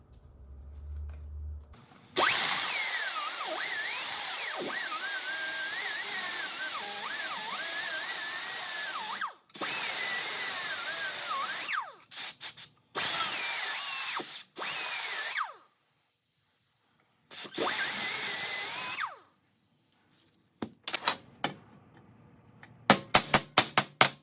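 A power tool cuts into an axle bearing during removal, whining loudly in several long bursts with wavering pitch, separated by short pauses and ending in a few quick clattering taps.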